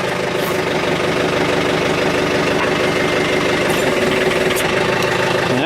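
A John Deere 110 TLB tractor loader backhoe idling after repair: a steady, close, loud engine rumble with a slight knocking throb throughout, alone with no talk.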